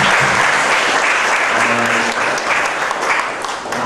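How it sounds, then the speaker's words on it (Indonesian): Audience applause rings out at an Indonesian informatics olympiad event, a loud, dense wash of clapping from a large crowd that holds steady for several seconds, with a brief tonal sound faintly underneath. "Tepuk tangan."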